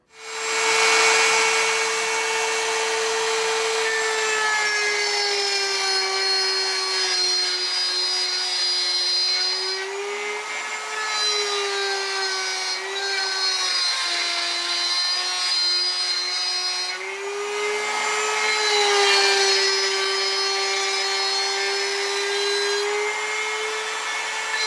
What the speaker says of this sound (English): We're just going to take very shallow cuts at a time to get this 5/8 dado cut into the bottom of the foot.